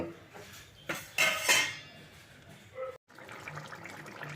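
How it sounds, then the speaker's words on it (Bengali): A lid is put on a cooking pot of jackfruit curry set over a high flame, giving a few loud metallic clanks and rattles in quick succession, then a brief quiet before soft kitchen noise resumes. "এবারে এটাকে আমি ঢাকা দিয়ে হাই ফ্লেমে রান্না করব"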